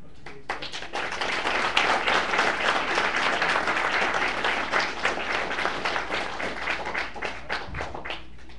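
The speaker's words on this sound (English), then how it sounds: "please give a well-deserved round of applause for all of today's guests" An audience at a military AIT graduation ceremony for an ordnance battalion at Fort Lee gives a round of applause, dense, steady clapping from many hands with distinct individual claps, sustained for several seconds.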